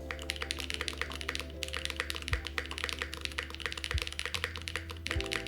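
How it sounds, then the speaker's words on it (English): Fast, steady typing on a custom-built Space80 mechanical keyboard, close and fairly quiet, a dense run of crisp clacks with a few deeper thocks standing out now and then. "if I can get all my keys to ever sound like the tab key, that'd be such an interesting keyboard"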